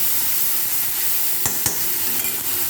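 Spices with turmeric and salt fry in a pan, giving a steady, close hiss and sizzle with a few sharp clicks as they are stirred.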